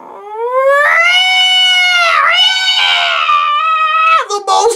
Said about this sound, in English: The most horrible caterwaul you ever heard made everyone jump.